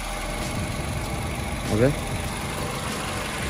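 A 2013 Toyota Camry V engine idles with a smooth, steady low hum, and a voice briefly speaks a single word over it partway through.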